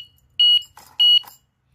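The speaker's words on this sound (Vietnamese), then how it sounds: "khóa nó đã kêu tít tít tít sẵn và coi như nó đã khởi động sẵn rồi" A Kinbar anti-theft alarm padlock arms itself after being locked, giving two loud, close, high-pitched electronic beeps about half a second apart, with faint mechanical clicks between them and near silence around.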